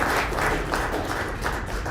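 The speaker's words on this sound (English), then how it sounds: "give a round of applause for our two fantastic speakers" A seminar audience claps for two speakers at the close of a cybersecurity session, producing a brief, dense burst of applause that stays loud and even throughout.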